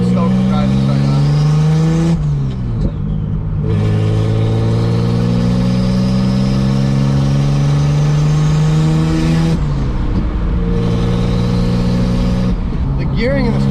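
A turbocharged BMW M20B25 engine in a 460 whp E30 pulls hard under acceleration, its rising harmonics climbing through long gears with gear changes around 2 and 10 seconds, loud and close from inside the car.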